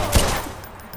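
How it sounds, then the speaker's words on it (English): Gunfire in the open-world video game Watch Dogs as the player starts shooting at people, a sharp loud burst near the start followed by a dwindling rumble and faint scattered shots. "I'm gonna start shooting people here."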